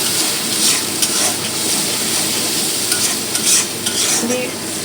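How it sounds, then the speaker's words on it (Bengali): Mustard, poppy seed, tomato and a little onion masala fries in a pan for Medinipur-style pabda fish jhal, a close continuous sizzle with stirring scrapes throughout and no talk. "সর্ষে পোস্ত টমেটো আর একটু সামান্য পেঁয়াজ দিলাম, দিয়ে ভালো করে কষিয়ে নেব।"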